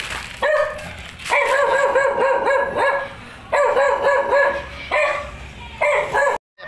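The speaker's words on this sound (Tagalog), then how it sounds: "May aso pala kayo rito." A dog barks in loud, close bursts at a home where rice is being delivered, with repeated barks and whimpering yips in several clusters separated by short pauses.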